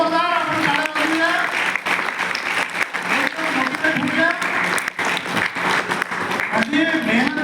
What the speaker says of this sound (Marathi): सरांकरिता एकदा जोरदार आपण टाळ्या वाजवूया